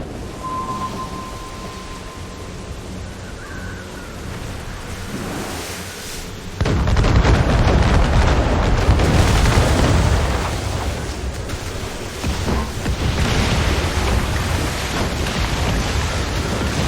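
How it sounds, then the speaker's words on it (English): Mortar fire from a burning fortress in Assassin's Creed Rogue, heavy booming blasts and rumbling roar that break in suddenly after a quieter ambient stretch and then roll on, loud and sustained, with a second surge later. "She's on fire. She's firing mortars"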